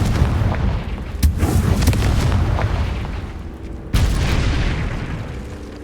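Explosive Confringo spell blasts in Hogwarts Legacy gameplay, a deep booming burst with a rumbling tail, followed by a second sharp blast about four seconds later, loud and alone without talk.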